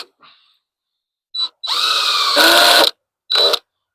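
A power drill whines briefly, then runs in a sustained loud whir for over a second with a rougher grinding stretch, followed by one more short burst; a few small taps come before.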